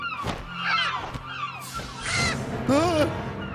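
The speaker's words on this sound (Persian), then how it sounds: "آره اسم اون گونه مرغ دریایی بزرگه" Large seagulls call repeatedly in a dubbed animated film, loud, harsh squawking cries overlapping close by over a steady background.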